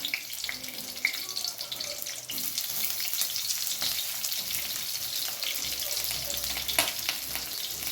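Onions frying in a pan for an Indian-style curry, a steady sizzle with stirring scrapes throughout, joined by a short burst of running tap water near the start.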